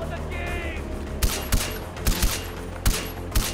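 Gunfire in the open-world shooter Far Cry 4: several sharp, well-spaced single shots crack out over steady background game ambience, moderately loud and close, with no talking.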